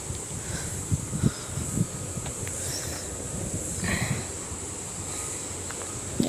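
Wind blowing outdoors during a walk among trees, a steady breezy rush with low gusty rumbles and scattered rustles, fairly close and continuous, with no talking.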